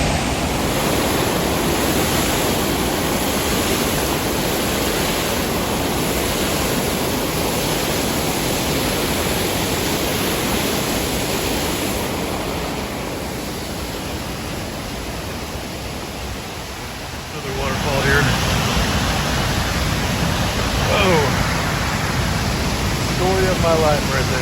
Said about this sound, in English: I'm gonna cross the bridge here and see if I can't see this other waterfall a little bit better.